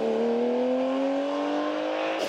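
A Porsche 911 RS rally car drives past at a motor-sport event, its engine note rising steadily and held loud and close for a couple of seconds before a sharp shift at the end.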